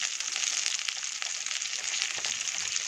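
Curry leaves fry in hot oil for aloo bonda, giving a dense, steady sizzling hiss up close, with small crackles scattered through it.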